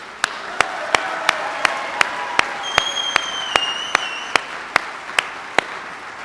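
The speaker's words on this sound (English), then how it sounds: "Let's give them one more round of applause for their service." Audience applause at a Department of the Army retirement ceremony, with steady, evenly spaced sharp claps standing out over a continuous wash of crowd noise.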